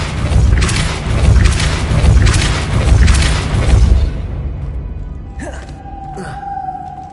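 A Depulso spell is cast in the video game Hogwarts Legacy, heard as a loud rumbling blast that fades after about four seconds, followed by softer magical tones.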